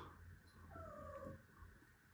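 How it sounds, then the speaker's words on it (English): A pet cat meows indoors, one drawn-out wavering cry that rises and falls in the middle, faint and a little distant against low background hum. "my cat keeps meowing"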